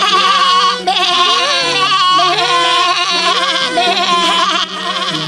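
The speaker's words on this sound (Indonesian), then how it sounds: "Mendengar suara dari kambing kecil, serigala itu langsung menghampiri." Cartoon young goats bleat in a continuous, loud, tuneful chorus, sustained and wavering, with no talk over it.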